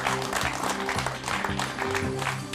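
Audience applause at a regional music competition, a continuous crowd of clapping hands, loud and steady, with instrumental music playing underneath.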